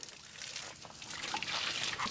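Water from a hose splashing and trickling outdoors at an animal shelter, a steady close spray with bright sloshing and dripping, no voices heard.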